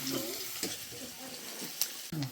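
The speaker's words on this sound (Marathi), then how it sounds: "आता कांदा ब्राऊन होईपर्यंत भाजून घ्यायचा." Onion frying in oil in a pan for a wild leafy vegetable dish, a soft continuous sizzle with occasional spoon scrapes and brief faint voice sounds.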